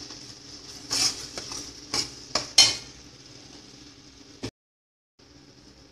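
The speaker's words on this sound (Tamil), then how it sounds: "மஞ்சள்தூள் போட்டு நல்லா கலந்து விட்டுக்கோங்க" Turmeric powder stirred into frying masala for a parrotfish curry: several sharp scraping strokes of a spoon against the pan over a faint sizzle, then a brief drop to silence.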